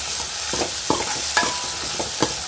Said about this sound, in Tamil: கத்திரிக்காயை சேர்த்து அதையும் ஒரு நல்லா வதக்கி வதக்கிட்டுக்கலாம்